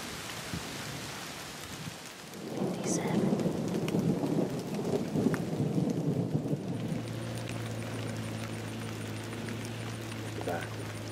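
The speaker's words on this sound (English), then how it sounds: "Right now it's still raining pretty good" Steady rainfall at a Florida hunting ranch with a long rolling thunder rumble building after a moment, and a faint voice speaking briefly under the storm.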